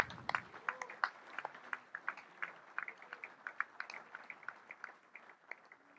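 Audience applause for Maurice Leroy at a political gathering, a faint, distant scatter of individual hand claps that stays steady and thin throughout.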